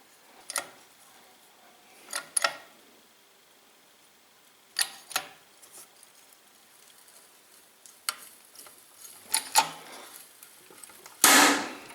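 Sharp metallic clanks and knocks come in irregular bursts with quiet gaps, ending in a louder grinding thump, as a bearing is pressed into its seat in a Zelmer Aquawelt 1600W vacuum cleaner.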